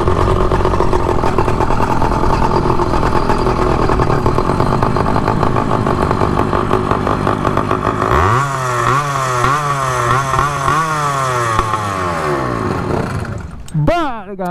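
A motorized 29-inch bicycle with a straight-pipe exhaust, a loud, raspy two-stroke engine droning steadily up close, then revving up and down in rising and falling waves before cutting off at the end.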